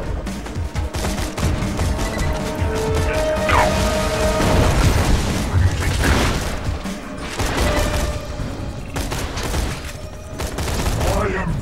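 Rocket launcher blasts in Borderlands 2 boom repeatedly alongside gunfire and crashing debris, a dense loud barrage of game combat effects filling the whole stretch, with a voice talking over it.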